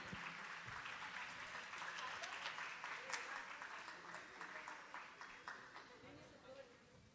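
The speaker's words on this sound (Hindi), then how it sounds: "ज़ोरदार तालियों के साथ तलबा की हौसला अफजाई करेंगे।" Audience applause for students at an award distribution for a 2019 elocution competition in Ichalkaranji, a steady dense patter of many hands clapping throughout, fairly loud and continuous with no talk over it.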